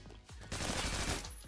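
Rapid automatic gunfire in the Roblox shooter Phantom Forces, a loud continuous burst of shots filling most of the moment, close and dense with no talking over it.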